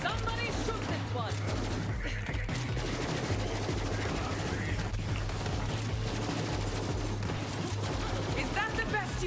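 Rapid automatic gunfire in the video game Borderlands 3, dense bursts and continuous shooting over a thumping low game soundtrack, with players talking over it.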